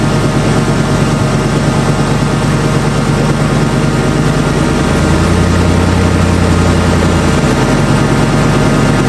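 A drift car's engine idles steadily and loudly throughout, a constant low rumble with no talking.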